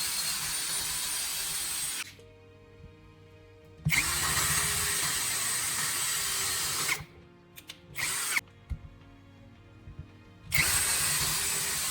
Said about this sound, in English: drill 2 holes near the edges right across the top